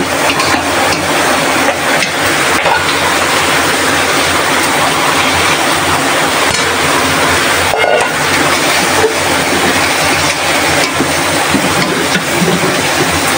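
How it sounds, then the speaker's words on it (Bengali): Water hits a hot pan of frying fish liver, setting off a loud, continuous hissing sizzle that rushes steadily throughout without pause. "আর এখন পানি দিয়ে দিব।"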